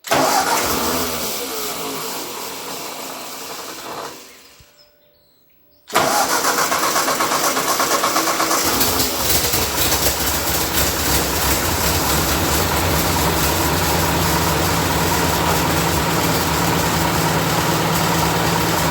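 A 1941 Ford 9N tractor engine cranks and fades to a brief silence, then fires up abruptly and settles into a loud, steady idle with a rough, even chug.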